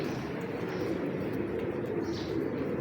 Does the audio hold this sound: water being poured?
no